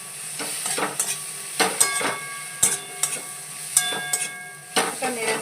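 Garlic, ginger, cumin, turmeric and chili powder are stirred in a hot pan, a loud close sizzle punctuated by repeated scraping strokes of a spoon against the metal in an uneven rhythm.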